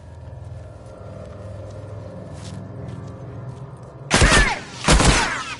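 Two sharp, loud rifle shots ring out in The Last of Us video game, each a sudden blast with a ringing tail, following a quieter stretch of low ambient rumble.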